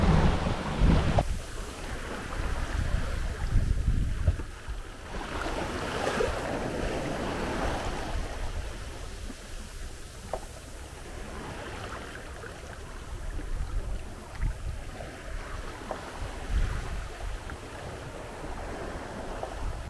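A sailboat runs fast before a freshening wind on the Mediterranean, with steady rushing surf and hull wash under heavy buffeting wind on the microphone, loud and continuous throughout with swells of louder splashing.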